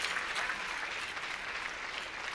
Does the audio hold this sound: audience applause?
yes